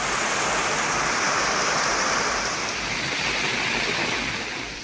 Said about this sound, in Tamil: சுற்றுவட்டார பகுதிகளில் கனமழை பெய்தது